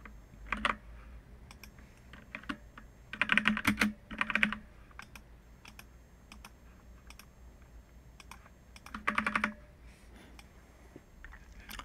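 Computer keyboard typing as a card number is entered, short bursts of soft clicking keystrokes separated by quiet pauses, close and fairly faint.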